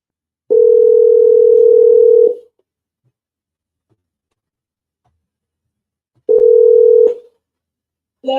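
A steady telephone dial tone on a phone call sounds twice, first for about two seconds, then again more briefly after a silent gap, with another tone just starting at the end.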